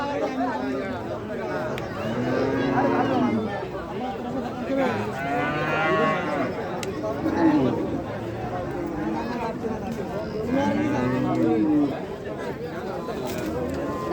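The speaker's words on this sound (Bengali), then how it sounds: "গরু বাজারে গরু আরো আসবে।" Cows low repeatedly at a busy cattle market, loud deep moos rising every few seconds over a steady crowd murmur and people talking nearby.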